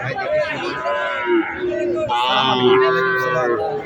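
A six-month-old calf, Sahiwal or local breed, moos at the Abad Pukur cattle market in Naogaon, with long, loud, drawn-out lowing close by over a busy background murmur of the crowd.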